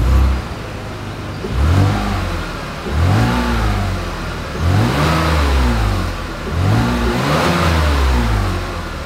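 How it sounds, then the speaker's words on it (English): A 2024 Chevrolet Blazer with dual exhaust revs three times in a row, each burst climbing and falling back to a steady mid-pitched idle, loud and close with no talking. "As always, here is that exhaust clip."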